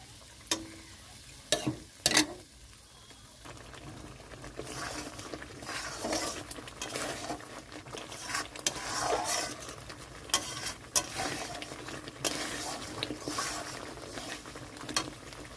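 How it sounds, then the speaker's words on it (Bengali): Spice paste for a cashew-paste tilapia curry fries in oil in a pan and is stirred throughout. A close, steady sizzle runs beneath it, broken by a few sharp clinks and scrapes of the spoon against the pan, with no talk. "মশলাটা একটু কষানো হয়ে গেছে"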